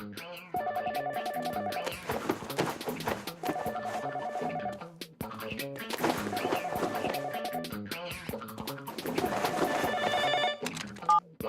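A cordless telephone rings in repeated electronic bursts with short gaps between them, set against busy background noise.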